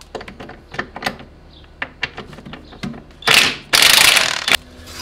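Ratchet wrench with a 17 mm socket working an Audi B5 suspension bolt, a series of close, crisp clicking ratchet strokes followed by louder grinding, rasping bursts near the end.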